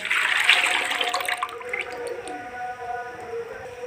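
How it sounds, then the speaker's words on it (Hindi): Milk, about one and a half litres, poured into a pot in a home kitchen: a short splashing liquid pour up front that tapers into faint trickling and background hum. "ये दूध मैंने डाल लिया।"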